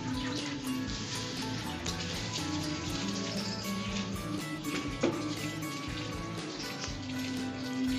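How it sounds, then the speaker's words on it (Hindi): Water from a tub is poured into flower pots, a steady splashing trickle with scattered drips against soil and plastic, moderately close and quiet, with no talking. "पानी है टब वाला, ये मैं गिरा देता हूँ अपने गमलों में।"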